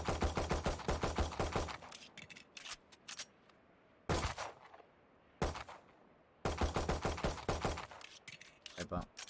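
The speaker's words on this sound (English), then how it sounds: "Now shoot that flying target for me." Rapid bursts of gunfire crack out in the shooter game Valorant during target practice on bots, with clusters of quick shots separated by short silences and a few isolated single shots.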